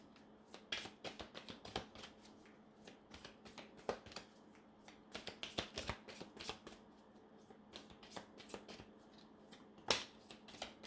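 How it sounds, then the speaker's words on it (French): Tarot cards shuffled by hand for a love reading, a quiet, close run of rapid riffling and flicking bursts separated by short pauses. "quelques cartes en amour pour faire un petit tirage"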